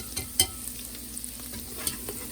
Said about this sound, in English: I'm going to whisk that until it forms a paste.